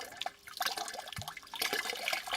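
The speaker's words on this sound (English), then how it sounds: "And you use a little water" Water poured to wash fine powdered limestone down into a bucket, heard as soft splashing and trickling with scattered drips and small clinks, close and fairly quiet.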